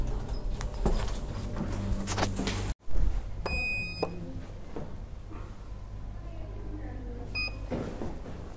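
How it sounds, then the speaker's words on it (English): A mechanical rumble of Pickerings lift doors sliding open in a hotel, with a couple of short electronic tones and a low steady hum underneath. "Doors opening."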